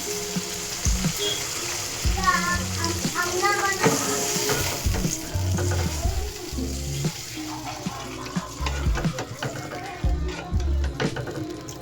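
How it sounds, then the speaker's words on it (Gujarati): Onions sauté in a pan for Kathiyawadi sev tameta curry, sizzling steadily while being stirred, with scraping, splashing and watery sounds in the background. "હવે આને થોડીક વાર સાતળવા દઈશું."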